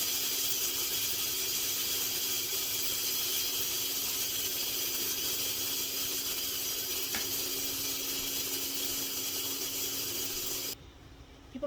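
Steam hisses steadily and loudly from a pressure cooker's release valve, with a deflector directing the vapor away from the kitchen cabinets. It is a broad, continuous rush with no talk, and it cuts off near the end.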